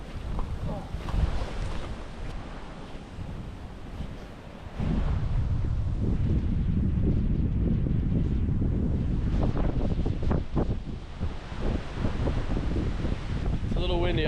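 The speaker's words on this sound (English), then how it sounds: "It's a little windy up here" Strong wind blowing across a cliff-top lookout on a bushwalk, loud rumbling gusts buffeting close to the microphone and surging louder midway, with a voice speaking faintly in the background.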